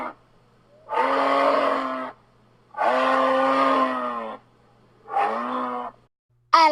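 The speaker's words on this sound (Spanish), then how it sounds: "Alce." A moose lets out three long, deep, moaning calls separated by pauses, loud and near, each ending abruptly.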